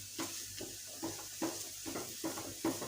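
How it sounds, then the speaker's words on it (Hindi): Boiled potato batter is stirred in a bowl, giving steady soft scraping and squelching strokes about every half second, close and moderately quiet, with no talking. "इसको हम अच्छी तरह मिक्स करते हैं"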